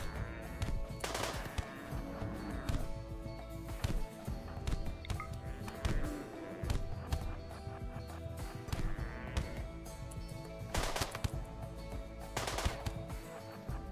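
A raid in the RimWorld video game brings pistol shots and scattered gunfire, with sharp cracks that repeat irregularly over a busy background of clatter and thumps at moderate volume.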